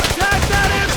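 Bursts of machine-gun fire in the World War II shooter Brothers in Arms: Hell's Highway, loud and sustained through the whole moment, with faint voices mixed underneath.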